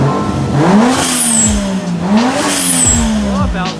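A turbocharged 1JZ engine revs up twice in rising sweeps, each followed by a sharp blow-off valve release, loud and close with a steady engine note underneath.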